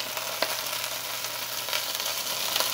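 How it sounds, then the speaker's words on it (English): Wet bell peppers sizzle and splatter in hot frying oil in a pan for a Caribbean quesadilla. The hiss is steady and close, with a few sharper pops. "these are wet, so it's going to splatter quite a bit."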